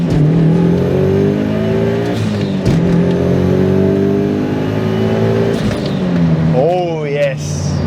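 Mitsubishi Evo 7 accelerating hard through its short gears, the engine note climbing and dropping with each quick shift, loud and close from inside the cabin, with a voice speaking over it.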